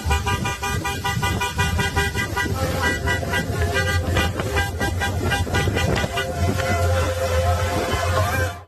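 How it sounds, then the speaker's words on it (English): Loud, dense traffic noise from cars stopped on a bridge, with repeated car horns honking in overlapping sustained blasts throughout. "There's a lot of traffic."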